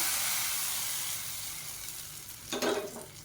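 A tempering of mustard seeds, cumin, curry leaves, dried red chillies and asafoetida is poured into a kootu, giving a faint, steady sizzling hiss that fades, then a brief louder splutter near the end.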